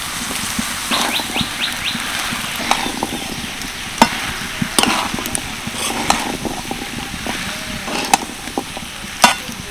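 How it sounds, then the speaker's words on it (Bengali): Boiled chickpeas and fried potatoes are sautéed in spice masala in a pan, with a steady sizzle and repeated scraping and clinking strokes of a spoon, close and without talk. "সব কিছু ভালো করে কষিয়ে নিলাম 2 থেকে 3 মিনিট মতো"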